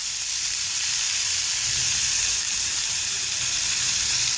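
Chicken sizzles steadily in a non-stick kadhai over a medium flame, a close, continuous bright hiss and crackle of frying with no pauses and no voices.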